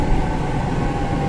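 MRT train running on the elevated line in Pasay near Magallanes, Makati during morning rush hour, a steady loud low rumble and rolling rail noise throughout, with no talk.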